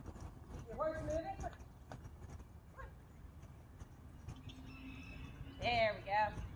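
A horse trotting during a riding lesson, its two-beat hoofbeats thudding at a steady pace, mixed with a rider's voice talking over them and faint birdsong in the background.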